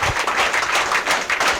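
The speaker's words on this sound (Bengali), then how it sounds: "জোরে করতালি প্রত্যাশা করছি" An audience at a motivational training program claps loudly and steadily for a guest trainer. The sound is short and dense and comes from a hall full of people, with no speech over it.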